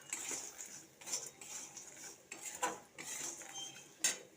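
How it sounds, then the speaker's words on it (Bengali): Spoon scraping and clinking against a pan while spices and ingredients are mixed, in irregular faint strokes at close range. "এবার ভালো করে মিশিয়ে নেব।"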